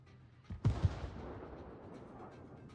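Naval guns firing from warships in World of Warships: one heavy booming salvo of two close blasts, followed by a long rumbling decay with faint distant shots behind it.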